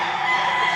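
A gamefarm rooster crows in a brief, loud, steady burst, one sustained call at close range with no talk over it.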